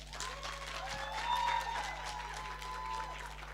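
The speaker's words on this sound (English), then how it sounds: "Let's give them a round of applause." Conference audience applauding after a primary school presentation, sustained crowd clapping that swells in the middle, with faint voices and a whistle-like tone mixed in over a steady electrical hum.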